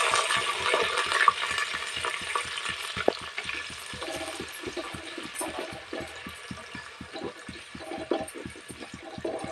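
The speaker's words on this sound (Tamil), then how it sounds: "வெங்காயம் போட்டுக்கலாம்." Onions frying in a pan with oil, mustard seeds and curry leaves for a pea and potato kurma, a steady close sizzle with scattered crackles and pops throughout, no talk.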